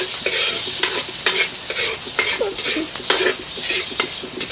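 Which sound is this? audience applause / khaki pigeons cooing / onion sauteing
onion sauteing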